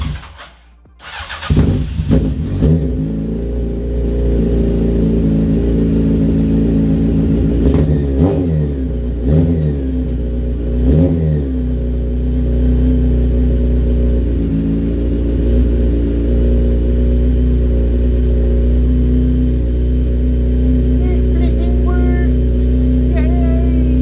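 A motorcycle fired up on a freshly charged lithium battery, with ignition on and choke out: a brief crank catches, then the engine idles loudly and steadily with several rising revs close by.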